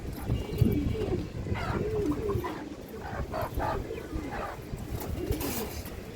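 Several pigeons coo repeatedly in soft, low burbling calls, overlapping at close range against a light background hum.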